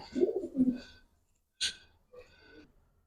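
Giribaz pigeons, a female among them, give low cooing calls in two bursts, a brief sharper note, and a softer closing coo, all close by with quiet pauses between.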